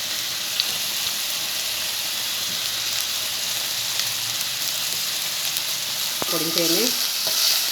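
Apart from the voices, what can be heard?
masala frying in a pan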